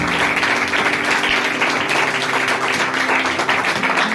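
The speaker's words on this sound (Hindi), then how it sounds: "जोरदार तालियां माओ के लिए, माओ के लिए जोरदार तालियां।" Congregation at a Mother's Day church service applauding for mothers, a dense, sustained burst of clapping that fills the room and stays steady throughout.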